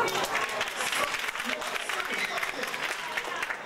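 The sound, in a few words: audience applause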